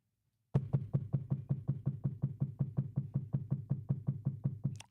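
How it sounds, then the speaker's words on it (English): A woodpecker hammers on a tree in a neighborhood, roughly twenty evenly spaced hollow taps in a steady fast rhythm that run for about four seconds and sound clear and close. "It's a woodpecker."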